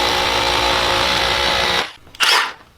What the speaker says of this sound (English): We're gonna drill 2 new holes in this concrete block, a 3/8 inch hole and a 1/2 inch hole